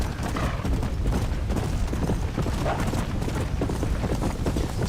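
Horse hooves pound in a fast, dense gallop through Red Dead Redemption: Undead Nightmare, a loud continuous rumble of rapid thuds with no pauses.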